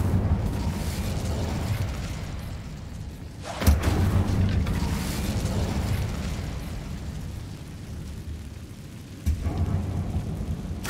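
An Incendio fire spell cast in a Harry Potter video game gives a sudden whooshing burst over a dense rumbling game soundscape, with a second burst later on.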